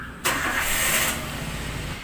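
A Toyota Avanza engine cranks and catches abruptly, then settles into a steady, close idle with no voices over it.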